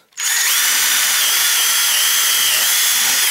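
A power drill whines steadily at high speed for about three seconds drilling a bolt hole for a Big Tex 30SA trailer side panel, close and loud, starting abruptly with no talking over it.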